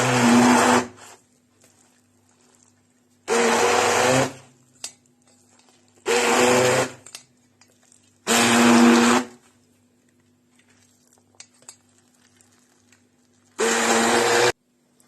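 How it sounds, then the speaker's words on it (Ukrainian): A blender whirs in five short bursts, each a second or so long, blending a buckwheat and potato patty mixture, separated by pauses of near silence. "зараз ми будемо перебивати блендером"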